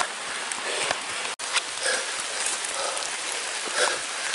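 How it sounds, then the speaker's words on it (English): Heavy rain pours steadily onto a forest hiking trail at Black Forest Trail near Slate Run, Pennsylvania, a dense continuous hiss of drops close around, briefly cut off once by a short gap. "It's raining pretty hard right now"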